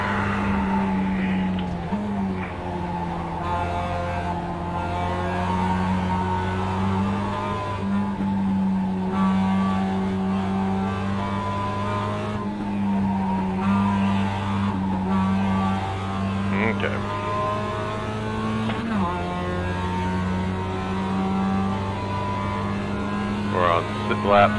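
Racing car engine in a racing video game, a steady droning hum that drops in pitch as it brakes and downshifts, shifting gears several times, with someone talking over it.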